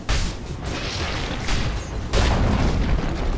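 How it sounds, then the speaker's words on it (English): A tower crumbling in the Dota 2 video game, heard as a sustained, loud, rumbling boom of collapsing debris with a couple of heavy surges of impact layered over continuous crashing noise, close and without talk. "Dire's middle tower has fallen."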